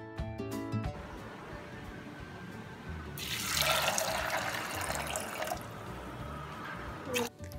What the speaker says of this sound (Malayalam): ഒരു കുക്കറിലേക്ക് ഗ്രീൻ പീസും ആവശ്യത്തിനുള്ള വെള്ളവും ചേർത്ത് കൊടുക്കാം.